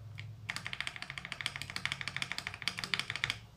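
A keyboard fitted with Jelly Strawberry V2 linear switches is tapped in a quick run of crisp, close keystrokes, dozens of light clacks in fast succession after a brief quiet start.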